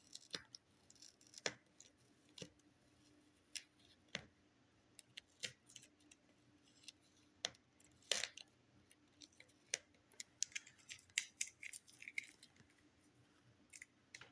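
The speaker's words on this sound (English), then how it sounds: "as you get to watch me take a sticker off" Sticker being peeled off a newly arrived book, heard as a close, quiet series of small crackling ticks and snaps scattered irregularly over a faint room background.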